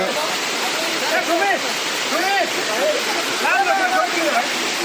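A constant rushing roar of a forest waterfall in hill country near Barlekha, Bangladesh, fills the clip, with people talking over the steady water noise.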